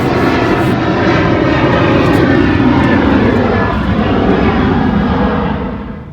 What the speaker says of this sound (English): we have lots of planes that fly overhead